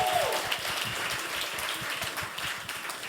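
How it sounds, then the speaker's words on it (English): Steady, moderate applause from a live music audience honouring a vocalist, continuous and somewhat distant for about three seconds, with a voice heard briefly at the start. "If we could all give her a round of applause."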